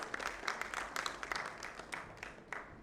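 Audience at an actuarial conference applauding speakers, a soft, distant patter of clapping with scattered sharper claps, fairly faint and steady for a few seconds.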